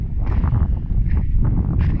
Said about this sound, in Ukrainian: Так, бо у нас вітри бешені дують.